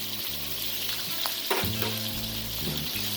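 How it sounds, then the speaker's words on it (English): Onion sizzles and crackles steadily in a hot wok, stir-fried with occasional scraping of stirring, close and continuous throughout. "It's gonna sizzle and stir fry."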